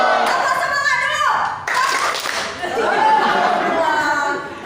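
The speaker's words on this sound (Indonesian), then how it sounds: "Beri dulu tepuk tangan untuk kelompok 4" A school class of children clapping for a student group, brief applause mixed with chatter and a teacher's voice.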